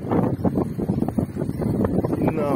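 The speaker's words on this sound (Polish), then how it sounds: "Wiatr, trzeba przekrzyczeć wiatr." Wind buffeting a microphone while travelling along a road near Mysiadło, Poland, a loud rumbling low roar that gusts and flutters continuously without pause.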